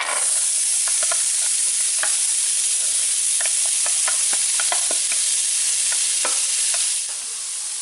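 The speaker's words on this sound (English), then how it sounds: "The first thing we're going to do is saute our veggies. We have some bacon grease." Vegetables sauté in hot bacon grease with a steady, close sizzle, and a spoon or spatula scrapes and stirs through them in scattered clicks and taps. The sizzle runs continuously with no talking and eases off slightly near the end.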